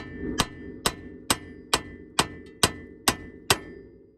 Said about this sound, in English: let's go ahead and hit a dead blow here